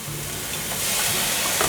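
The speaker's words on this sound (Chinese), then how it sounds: "现在倒入刚刚调好的料汁" Prepared sauce thickened with starch is poured into a hot pan of taro and shiitake mushrooms. The steady frying hiss swells into a louder, close sizzle, with no talking.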